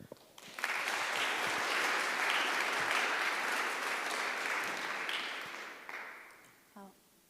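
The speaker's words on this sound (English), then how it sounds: "Please give a warm applause to Dr. Ewa Strzelecka." An audience at an evening talk on war crimes and women in peace processes gives sustained applause. It swells quickly, holds dense and even for several seconds, then fades out.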